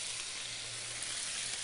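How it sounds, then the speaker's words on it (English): Chicken frying in canola oil in a pan gives off a steady, dense sizzle with a faint low hum beneath it, continuous and close, and no voices. "we'll let that sizzle and brown and get all wonderfully caramelized"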